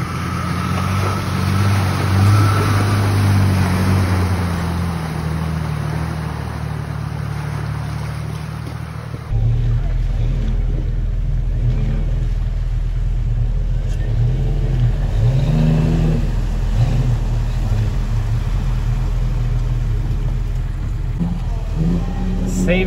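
A manual Jeep Rubicon engine drones loudly and steadily while off-roading at Rausch Creek, with a low rumble and a sharp shift in tone partway through, suggesting revving or a gear change.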